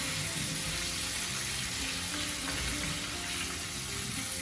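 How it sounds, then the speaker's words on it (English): Pieces of chicken coated in besan batter fry in oil over medium heat, giving off a steady, busy sizzle and crackle close at hand, with no talking. "Keep on a medium heat and let it gently cook in the oil."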